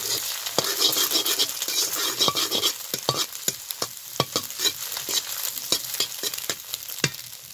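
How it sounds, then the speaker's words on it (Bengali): An egg scrambled and broken up in hot oil, with continuous close sizzling and repeated sharp scrapes and taps of a spatula against the pan, no voices. "ডিমটাকে একটু খুব ভালো করে ঝুরি করে নেব"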